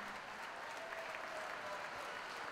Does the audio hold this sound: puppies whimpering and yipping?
no